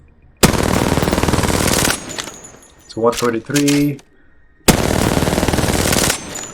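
Two loud bursts of rapid automatic gunfire from Apex Legends, each about one and a half seconds long, fired at a target. A short metallic clatter and a clicking sound come in the gap between the bursts.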